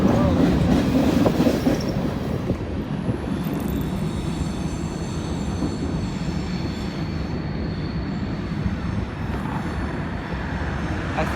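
Freight train rolling past with a DPU locomotive at a former rail yard, a continuous broad rumble and rattle of wagons with faint wheel squeal and clacking, loudest at the start then steady and moderately distant, no voices.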